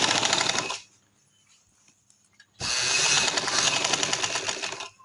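Sewing machine stitching elastic into trousers, running in two loud, steady bursts of rapid stitching separated by a quiet pause of about two seconds.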